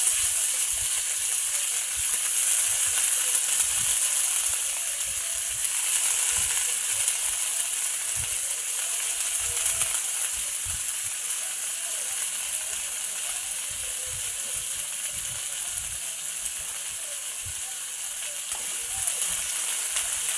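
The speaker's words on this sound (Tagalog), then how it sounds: "Unahin po natin igisa ang sitaw." Fresh string beans sautéing in a hot pan for adobong sitaw, a continuous bright sizzle and hiss running throughout at a steady level, close by, with occasional faint stirring sounds.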